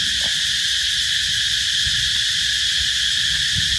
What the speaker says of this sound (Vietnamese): Mùa này mùa gì mà ve nó kêu quá cả nhà, quá trời nó kêu luôn rồi